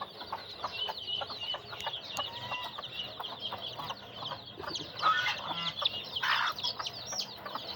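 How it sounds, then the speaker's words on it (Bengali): Chickens and chicks on a rooftop garden cluck and peep in a steady, busy stream of short calls, fairly close, with a denser burst of clucking near the end and no talk over it. "এই হচ্ছে আমার মুরগির বাচ্চা।"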